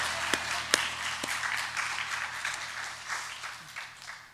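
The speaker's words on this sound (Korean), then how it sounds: "지난 한 달 우리에게 은혜 베푸신 하나님께 영광의 박수를 올려." A church congregation at a Sunday worship service applauds to give glory to God, a steady wash of clapping with a few sharper hand claps standing out early on.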